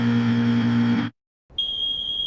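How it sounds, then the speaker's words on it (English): An alarm starts abruptly after a brief silence, a steady high electronic tone ringing alone and fairly loud, following a deep droning passage that cuts off. "the alarm sounds, and your conscious mind jolts awake"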